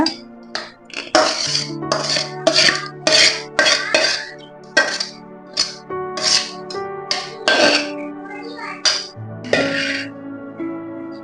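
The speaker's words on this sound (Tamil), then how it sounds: "கலந்து நல்லா கலக்கி விட்டுக்கோங்க" A spoon clinks and scrapes against a bowl while wheat dosa batter is stirred, a quick irregular series of sharp metallic taps, close and fairly loud with no talking.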